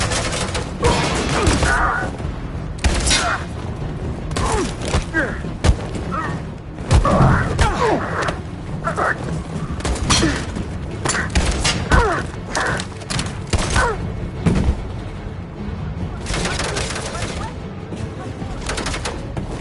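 Sustained suppressing gunfire in a video game, with bursts of shots and heavy thuds layered over a dense battle din for about twenty seconds, and voices shouting throughout.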